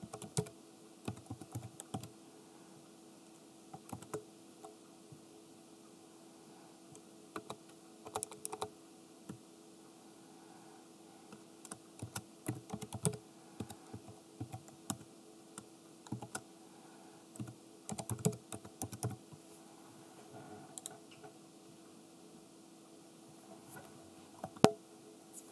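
Someone types a password on a computer keyboard in scattered bursts of quick, close key clicks separated by short pauses, with no speech over it.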